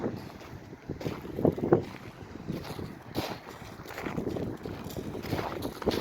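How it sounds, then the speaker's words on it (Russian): Waves on Lake Issyk-Kul at Cholpon-Ata, Kyrgyzstan, rolling and breaking on the shore, a steady wash of surf with gusts of wind buffeting the microphone. "Волны шумят прибоем."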